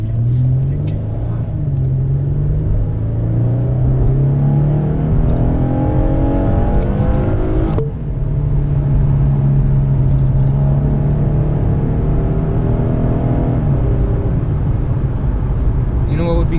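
A 2019 Lexus RC300 AWD under hard acceleration gives a loud, steady engine drone that climbs in pitch, drops briefly at a gear change, then climbs again, with a low road rumble underneath throughout.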